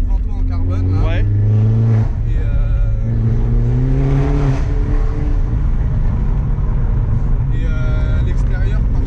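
A Mini John Cooper Works engine with open exhaust valves rumbles and revs loudly with a throaty exhaust note throughout, while people talk over it.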